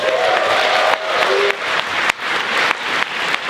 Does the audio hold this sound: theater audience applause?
yes